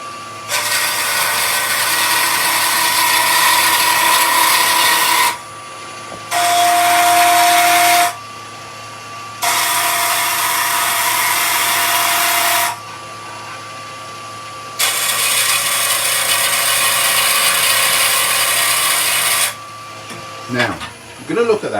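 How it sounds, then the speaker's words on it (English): Wood lathe with a knurling tool worked against the spinning wood, loud steady whine and rough texturing noise in four long passes, with a quieter motor hum between them and a rattle at the end. "So we can get other effects like knurling and things like that."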